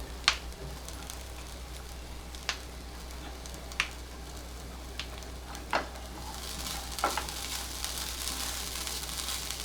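Ginger and green chillies sizzle quietly and steadily in a hot pan while a potato and brinjal curry without onion or garlic is being made, with a few soft pops and crackles over the hiss.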